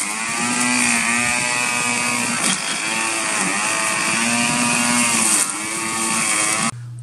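A lawnmower engine runs loud and steady, its pitch surging and dipping in a rough cycle, then cuts down abruptly near the end as it keeps stalling.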